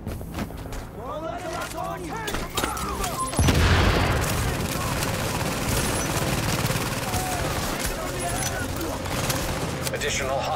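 Gunfire in The Division on PS4, with a loud burst of shots and booms from about three seconds on, then steady rattling fire and footsteps under game voices.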